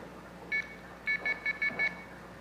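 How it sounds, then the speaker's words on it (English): Payphone coin tone for an inserted quarter: five short, clipped electronic beeps in a quick even rhythm after one lone beep, fairly faint over a quiet line hiss, with no talking. "when a quarter is inserted into this payphone, the totalizer detects that and it triggers the coin tone oscillator"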